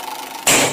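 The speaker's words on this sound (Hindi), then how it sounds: "रिक्शा" Motor rickshaw engine bursting into a loud, rough broadband roar about halfway through, after a quiet background, and holding steady for a moment before easing slightly.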